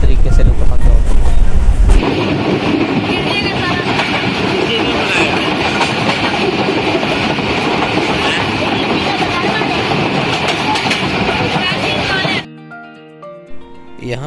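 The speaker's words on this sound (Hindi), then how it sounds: "यहाँ पर बहुत हाइट से ट्रेन गुज़र रही है" A train crossing at great height on a hill railway route toward the Himalayan foothills, Multan to Murree, gives a loud, steady rumble of wheels and carriage noise, with a brief heavier burst at the start and a sudden drop near the end.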